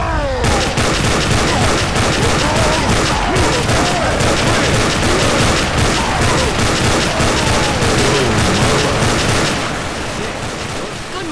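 Gunfire in a video game rolls on as a dense, loud, continuous fusillade of rapid shots and booms that fills nearly the whole stretch and eases off only near the end.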